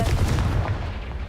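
A Confringo fire spell blast goes off in Hogwarts Legacy, a dense booming burst that lands loud and close, then settles into a rumbling tail over about a second with no talking.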